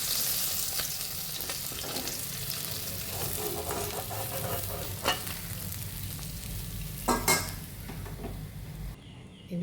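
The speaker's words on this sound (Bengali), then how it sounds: "এবার এই তেলের মধ্যে একটা শুকনো লঙ্কা দিয়ে দিচ্ছি" Dried red chilli frying in hot oil, a steady dense sizzle and crackle that runs throughout, with a few sharper spits and pan clatters near the end.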